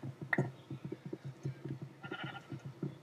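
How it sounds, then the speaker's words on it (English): Sheep bleat repeatedly in the video game Minecraft, a steady run of short nasal calls over a soft background. "I can hear that sheep."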